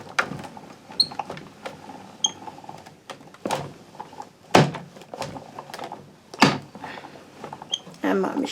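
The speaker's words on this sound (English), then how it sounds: "And my machine is getting old. You can probably hear it squeaking away." An old die-cutting machine squeaks and thunks in uneven bursts as thick cardstock is cranked through, loud and close, with a person talking over it.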